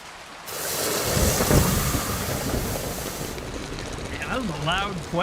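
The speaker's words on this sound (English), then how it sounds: "The thunder going off." Loud rolling thunder with steady heavy rain in the medieval smithing game Swords, Fists, and Glory, a sustained broadband rumble that swells and lingers while a voice talks over the end.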